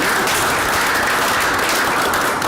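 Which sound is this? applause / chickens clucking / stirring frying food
applause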